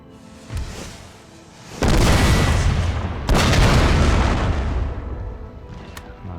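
Cannon fire in a Napoleon: Total War battle, with loud booming artillery blasts rolling into long, sustained rumbling barrages, the second wave almost as heavy as the first, with a few sharper reports scattered through.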